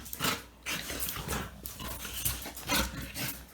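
Dogo Argentino dogs play roughly together, giving bursts of growls, scuffling and panting in uneven pulses, fairly quiet and close, with no talk over them.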